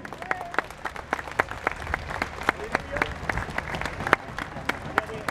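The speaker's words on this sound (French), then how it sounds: "On peut vous applaudir très très fort." Audience applause at the first departure of the Hermione, with loud individual claps close by over a dense crowd clapping that continues steadily throughout.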